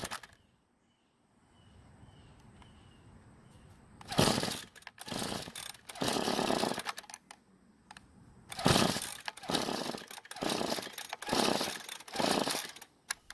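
A gas string trimmer engine is pull-started with primer and choke set, giving several loud bursts of cranking and sputtering separated by pauses, with a brief catch that dies out; no talk.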